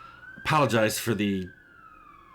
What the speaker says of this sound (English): If I stopped recording every time a siren by this place, I'd never record.